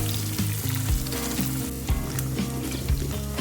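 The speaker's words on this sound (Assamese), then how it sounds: "অকণমান মই পিঁয়াজখিনি ভাজি ল'ম" Chopped onions fry in oil with a dense, steady sizzle and crackle, close and moderately loud, while occasional dull knocks of stirring land underneath; no one speaks.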